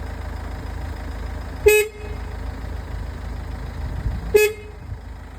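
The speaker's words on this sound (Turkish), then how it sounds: "Kornaya bas bakalım çalacak mı?" A car horn gives two short, loud honks a few seconds apart, over a low idling hum.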